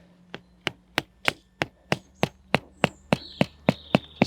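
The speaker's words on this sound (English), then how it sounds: "just to hammer that peg into the ground" A mallet hammers a peg into lawn ground with about thirteen sharp, evenly spaced wooden knocks, close by and loud, with no talking.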